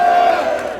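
Crowd at a Korean Democratic Party election rally for Park Soo-hyun and Lee Hae-chan shouting "manse" together, one brief, loud unison cry.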